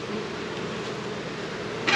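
Honeybees hum around a new beehive at close range during a weekly hive checkup, a steady, continuous drone with no talking, ending in a brief louder rustle.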